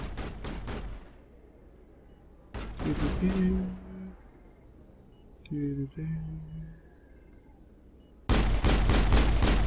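Video game gunfire in Mass Effect comes in rapid bursts at the start, again in the middle and loudly at the end, with synthetic electronic tones and brief game sounds in the gaps between volleys.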